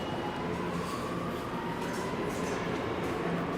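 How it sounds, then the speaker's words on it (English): Rumble and rattle of a New York City subway 1 train, a steady continuous roar with faint wheel noise that holds close and even throughout, with no voices. "This is the one train."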